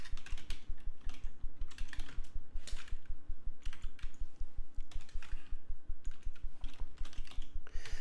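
Someone touch types on a computer keyboard in a fast, steady run of clicking keystrokes with brief pauses between bursts, close up and with no speech.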